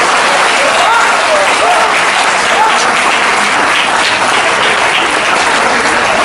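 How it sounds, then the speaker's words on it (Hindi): Audience at a Hindi poetry recital breaks into steady, sustained applause that fills the hall, with a few faint voices rising above the dense clapping. "ताली बजा सकते हैं।"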